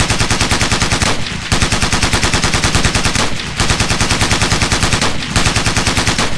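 Sustained automatic gunfire rips through a Ghost Recon Navy SEALs training exercise in the BUDS third phase. The rapid bursts are loud and close, broken by two or three brief pauses.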